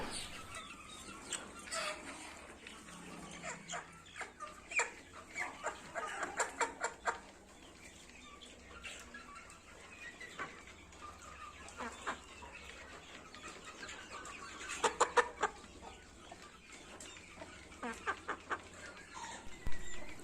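Elba chickens clucking in a farm pen, scattered soft clucks and chatters near and far with occasional louder bursts and faint wing rustles, no talk.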